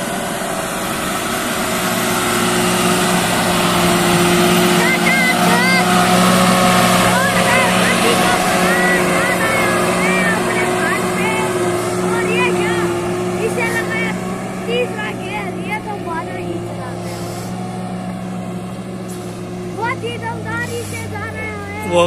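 A Tata 2515 truck engine strains loudly in a steady, labouring drone while climbing a 40-foot ramp, heard close throughout with voices talking over it.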